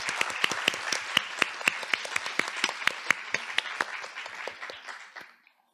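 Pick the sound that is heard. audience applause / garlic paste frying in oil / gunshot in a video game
audience applause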